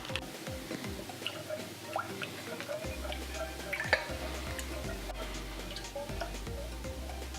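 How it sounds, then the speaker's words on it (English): Cornstarch being stirred into cold water in a pot for an Instant Pot shepherd's pie, heard as soft, close ticks and clinks of a utensil against the pot, in a quiet, irregular rhythm with no talking. "I'm going to add 2 tablespoons to the water"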